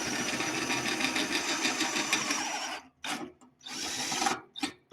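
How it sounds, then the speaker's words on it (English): A drill boring holes in the fin spar of a Talon A600 helicopter's tail section, giving a steady high whine that cuts out and restarts in short bursts near the end, close and alone. "holes are being drilled with fin removed from the tail boom for clarity"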